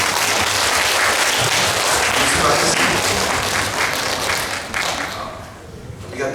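A church congregation applauds the worship team and youth group at a Sunday service, dense steady clapping filling the room before tapering off near the end, with a voice speaking briefly over it.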